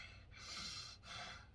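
A voice imitates agitated breathing: two quick, forceful breaths, each a harsh, noisy rush of air, close and alone.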